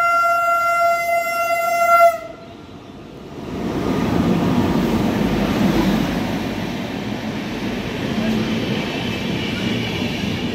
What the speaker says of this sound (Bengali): ঢুকছে অগ্নিবীণা ট্রেন।